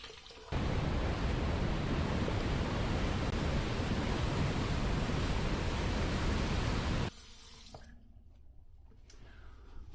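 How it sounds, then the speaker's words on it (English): A tap runs into a sink as someone rinses off after a shave, a loud steady close rush of water for several seconds that stops abruptly, followed by quiet handling sounds. "Let me rinse off real quick"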